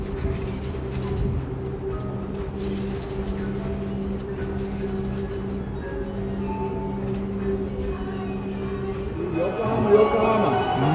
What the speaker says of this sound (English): So this train, don't take it.